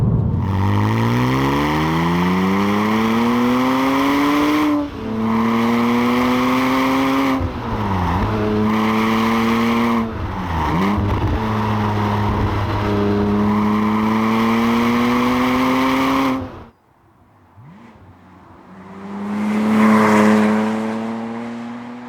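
A converted Porsche Cayman 987 with a 4.1-litre engine drives on an open road, its loud engine note rising through the gears with brief dips at each shift, then easing off before revving up again.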